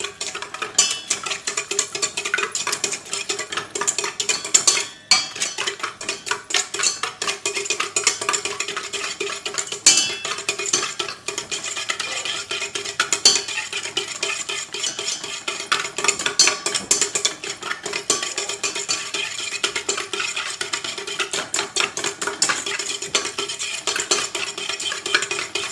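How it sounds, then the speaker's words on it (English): A stand mixer's whisk attachment beats egg whites with granulated sugar for Swiss meringue buttercream, making a continuous dense whirring rattle with rapid clicking against the bowl, loud and unbroken. "Then I'm going to be using the whisk attachment of my mixer to do this."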